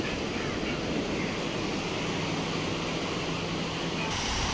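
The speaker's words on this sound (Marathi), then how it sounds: "आता आम्ही आलोय समुद्रावर" Sea waves wash steadily onto a seashore, a continuous broadband rush of surf mixed with wind, moderately loud and unbroken throughout.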